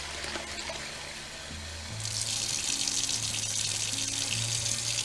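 A kitchen faucet gushes on partway through, a steady rushing stream of water into a sink over a low background hum.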